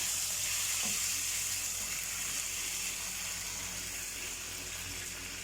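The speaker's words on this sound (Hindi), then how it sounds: "अभी हम इसको लाइट सा सौते करेंगे।" Garlic paste with green chili and ginger paste sautéing in a pan while stuffed karela filling is made, a steady close sizzle with no speech.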